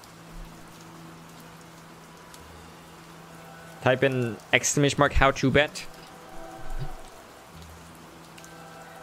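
Rain patters outside an open window as a steady low hiss, heard behind a short burst of speech in the middle.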